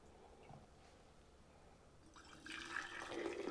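Tomato passata pours from a clean sterilised jug into jars for water-bath canning, a quiet trickle that grows into a fuller, louder liquid gush toward the end.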